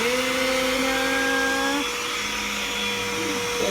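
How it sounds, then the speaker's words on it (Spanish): A household vacuum cleaner runs steadily while being used on a pet, a loud droning whine whose pitch shifts and drops partway through, with no talking. "Pasamos la aspiradora a Selena."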